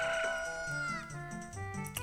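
Chicken clucking from the video game The Legend of Zelda: Ocarina of Time, a shrill bird call over busy game music, steady and clear for about two seconds.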